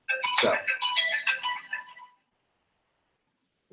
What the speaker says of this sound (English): I apologize for my phone ring. I should have turned it off.